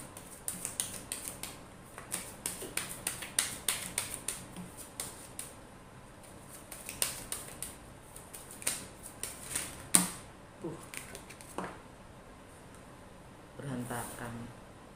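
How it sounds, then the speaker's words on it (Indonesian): Tarot cards shuffled by hand at close range, giving quick papery riffles and sharp clicks in uneven bursts with brief pauses, ending in a denser flutter. "Semua kartunya udah gue reshuffle sebelumnya. Jadi semoga nggak lama ngocoknya gitu."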